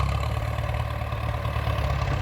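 Ford 6610 tractor engine running steadily with a deep, constant rumble, loud and close throughout with no change in pitch and no talking.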